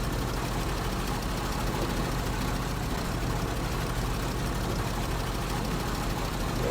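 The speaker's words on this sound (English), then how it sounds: "And the Mercer just keeps on chugging along" Mercer truck engine running steadily while driving over snow and ice at Lake Ribiere, Quebec, a continuous dense low rumble that stays loud and even throughout with no pauses.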